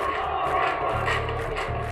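A protest crowd in Syria shouting together in a recording, loud massed voices in rhythmic chant-like bursts that fill the whole moment without pause.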